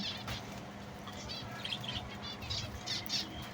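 Pet finches in a home cage chirp and tweet in quick, faint bursts over a steady background hiss, with occasional soft flutters of wings.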